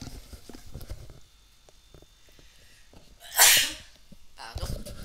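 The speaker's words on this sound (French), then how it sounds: "Pardon, je vais éternuer." One sharp, loud sneeze breaks out midway after quiet breathing, with a brief voice just afterward.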